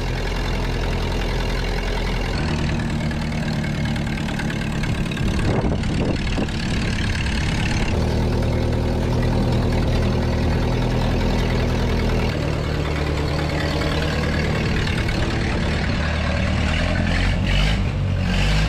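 A 1931 Ford Model A engine, long stuck and now freed, runs steadily with a loud continuous mid-pitched drone and a slight rise in revs partway through, up close with no talking.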